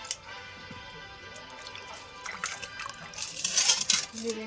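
Mushrooms being rinsed in clean water make light splashing and dripping with small clinks of a bowl or pot, growing busier and louder toward the end.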